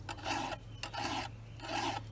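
Rasping strokes of a hand file sharpening a chainsaw chain, three distinct rough passes repeated in a steady rhythm, close and clear, with a low hum underneath.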